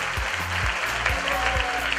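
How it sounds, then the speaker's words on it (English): Round of applause from a festival audience welcoming Korean and Israeli guests in New York, steady dense clapping throughout with low music or rhythmic thumps underneath. "let's give them a real New Yorkers round of applause."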